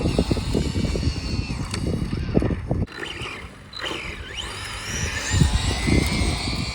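High-KV electric motor on an Arrma Infraction 1/8-scale RC car, geared high and cogging: a whining motor that rises and falls in pitch over a steady rumble of tires, fairly close, with no talking.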